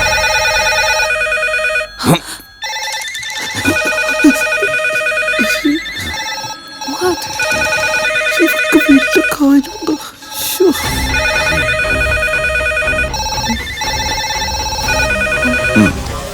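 Telephone ringtone in a Malayalam film scene, a melodic electronic ring repeating in steady cycles throughout, loud and close, with voices talking and brief clinks and movement beneath it.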